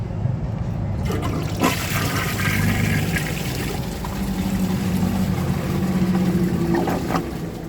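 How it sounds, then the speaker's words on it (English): A 2003 American Standard Compact toilet performs a short flush, a loud rushing surge of water that swirls and drains steadily for several seconds, close and alone. "the short flush will definitely leave some down there in the bottom"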